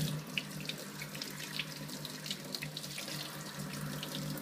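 An uncoated leather motorcycle glove held under a running sink tap, giving a steady close hiss of flowing water with small splashy flickers where the stream hits the glove, no voices over it.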